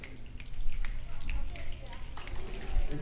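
An audience snaps fingers together to imitate rain, producing a scattered, soft crackle of many small clicks over a low murmur in a room.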